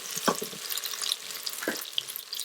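Ginger garlic paste sautés in an Instant Pot after onions have browned, giving a soft steady sizzle with a few clinks and scrapes of stirring, close and fairly quiet.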